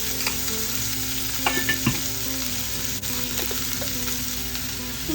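Food sizzles steadily in a frying pan, with a few louder pops and crackles and light stirring scrapes, close and continuous with no talk.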